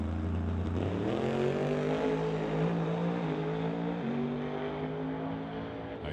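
A '63 Nova drag car makes a nitrous-assisted run at an NHRA Summit ET Series race. The engine drones steadily and loudly, and its pitch climbs as it shifts through the gears. No voices are heard.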